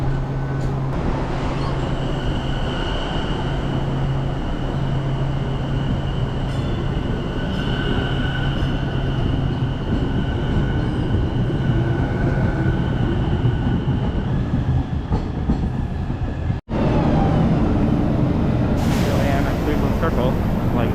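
A train on Boston's T rumbles steadily past close by for a long stretch, with squealing tones and a sudden cut partway through, followed by louder rushing noise.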